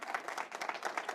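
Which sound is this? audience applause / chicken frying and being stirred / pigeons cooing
audience applause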